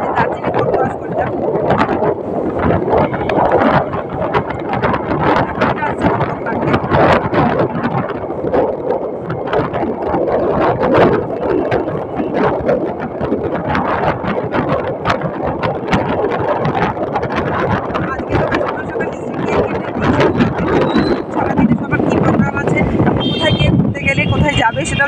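Motor of a river crossing boat near Darjeeling in North Bengal drones steadily throughout, with wind rushing over it and a voice talking on top.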